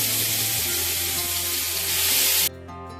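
Chicken hariyali kabab skewers sizzle loudly in oil in a frying pan, a dense close hiss that runs steadily and drops suddenly near the end.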